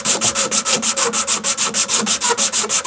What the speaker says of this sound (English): just take a strip of sandpaper. This is 80 grit and I will work down the grades